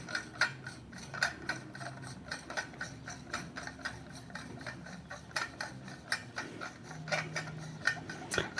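Metal parts of a Fergus pendant lamp gallery ring are screwed together by hand, giving a quiet, steady run of small ratcheting clicks and ticks, close up with no talking.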